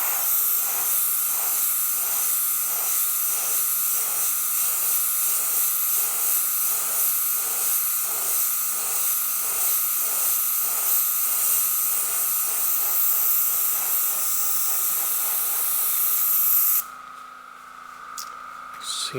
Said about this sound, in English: Right now I'm just drying the paint with air from the airbrush alone.